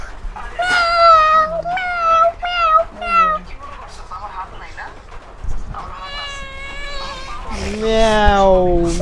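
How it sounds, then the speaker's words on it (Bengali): A cat meows repeatedly in a house, a run of clear, drawn-out cries with short gaps between them, ending in a long, loud wail. There is no talking. "ম্যাও"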